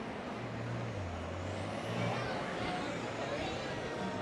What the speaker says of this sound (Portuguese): eu gosto do ronco do Porsche Turbo